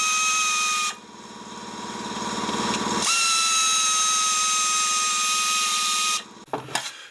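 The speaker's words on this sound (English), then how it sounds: "And now we can remove all those bolts." Power tool whirring steadily while bolts are backed out of a Honda EU2000i generator's case, holding a loud sustained whine with a pitch shift midway, then stopping with a few clicks and clatters at the end.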